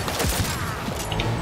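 Gunfire from a Cyberpunk 2077 firefight, a loud continuous spray of shots with a few sharper cracks standing out over a dense, noisy background.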